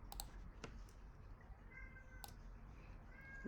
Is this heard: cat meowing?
yes